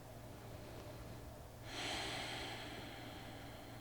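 One quiet, long breath drawn in audibly through the nose, faint and close, during a supported yoga squat over a low steady background hum.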